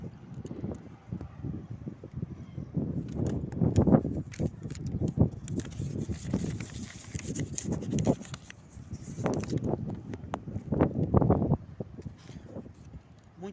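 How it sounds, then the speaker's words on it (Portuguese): Strong wind blows outdoors in Campina Grande, Paraíba, buffeting the microphone in rough, rumbling gusts that rise and fall irregularly throughout. "Muito vento aqui"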